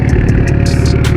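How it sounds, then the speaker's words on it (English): A car fitted with a straight-pipe exhaust rumbles steadily at idle, a loud, close, continuous low drone with a faint ticking clatter and no talk over it. "So I knew putting a straight pipe on this car would be a pretty decent sound."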